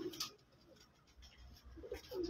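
Pipla bloodline pigeons on a rooftop in Faisalabad, Pakistan, coo softly in a few short bursts, one near the start and more near the end, faint and without talk.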